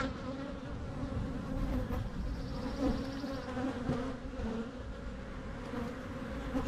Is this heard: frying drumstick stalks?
no